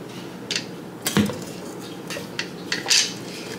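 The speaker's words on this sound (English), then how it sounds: "come drop the spoon in there." A spoon dropped into a dish of oatmeal gives a brief clink and knock, followed by a few lighter utensil taps against the dish, close and fairly quiet with no talk.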